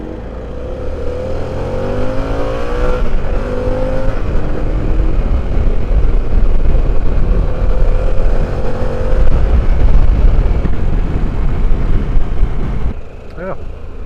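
Harley-Davidson motorcycle engine on a test ride, a steady loud rumble with rising and falling rev sweeps and heavy wind roar throughout, easing off briefly near the end.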